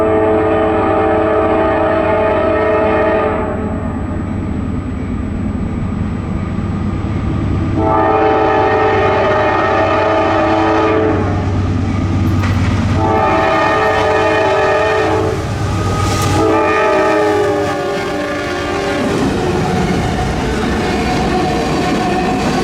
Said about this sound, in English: NS-17V appeared, and it had a really good consist too, with a -9 trailing and a CP Gevo behind that